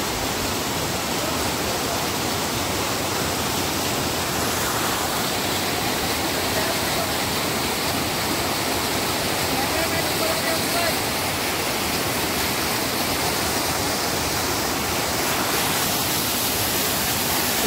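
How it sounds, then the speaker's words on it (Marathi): A rain-swollen waterfall in the Konkan countryside roars as a dense, steady rush of falling water, loud and unbroken throughout, with no pauses. "एवढा धबधब्याचं पाणी बघा किती जोरदार मस्त की येत आहे."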